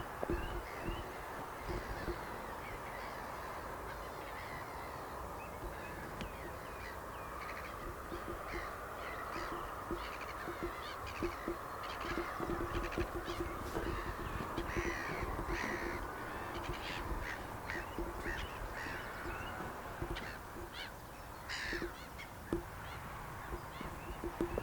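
Crows cawing outdoors near an abandoned motocross track, repeated harsh caws scattered throughout at moderate distance over a steady background hiss of open air.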